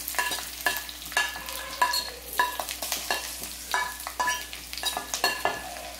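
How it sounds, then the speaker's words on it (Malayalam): Sliced onions frying with ginger and green chilli for poori masala, a steady sizzle broken by rapid, rhythmic scraping and clinking of a spoon stirring in the pan, close and clear, no talking. "ഇനിയിപ്പോ ഇതിലേക്ക് നമുക്ക് സവാള മുറിച്ചത് ഇട്ട് കൊടുക്കാം"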